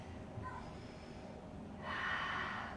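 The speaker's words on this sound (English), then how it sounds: "Deep breath." A deep breath during a yoga class: a soft, close breath drawn in after a brief sniff, rising into a steadier airy rush near the end.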